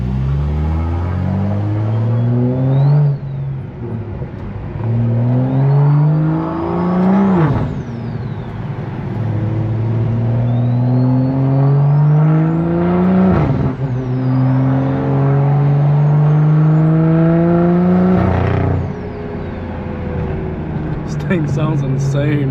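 A car fitted with a Pure500 turbo and T51R mod accelerates hard through repeated gear pulls, each rising engine whine broken by sharp shift points and turbo flutter, heard loud from inside the cabin.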